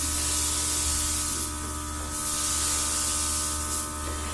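Light airbrush makeup spray misting blush onto the face, a steady soft hiss running close and continuous through the whole stretch with a few slight swells, no talking.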